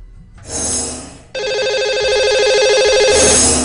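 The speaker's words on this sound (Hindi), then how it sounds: "ये जानने के लिए तो उन्हें फोन लगाना होगा। चलिए उनका नंबर लगाते हैं।" A telephone rings loudly on a radio show while a host dials a lucky caller, with a short trill, a brief break, then a longer sustained electronic ring.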